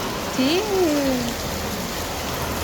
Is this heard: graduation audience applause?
no